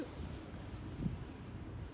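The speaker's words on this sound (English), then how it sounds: "We're having a windstorm, and it is just really blowing these over." Windstorm gusting across a small ranch in the New Mexico highlands, heard as a faint, low, rumbling buffet of wind on the microphone with a slightly stronger gust midway and no one speaking.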